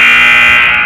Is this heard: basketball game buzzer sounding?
yes